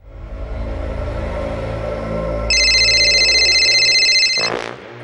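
A mobile phone ringtone starts midway as a loud, steady electronic ring over a low rumbling engine-like background, then cuts off abruptly near the end.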